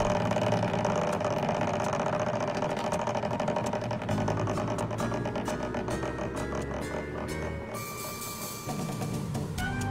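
A prize wheel on a virtual game show spins with a steady, dense rattle of clicking and whirring, ending in a brief shift near the end, loud and continuous with no talking.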